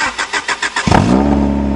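A Toyota Tercel that has sat unused for a couple of months cranks several times with a rhythmic starter whir, then its engine catches and settles into a loud, steady running idle, close by.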